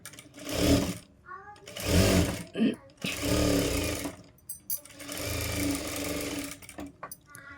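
A sewing machine stitches a katori blouse in short repeated bursts of rapid mechanical clatter, with brief pauses between runs as the fabric is turned. The sound is close and fairly loud.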